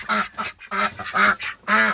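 Several ducks quack loudly and close by in repeated harsh bursts, around five calls in quick succession, with no talk over them.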